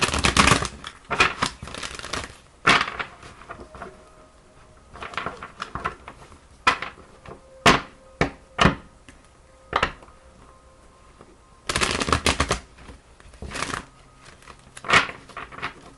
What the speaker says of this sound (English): I shuffle them 3 times this way.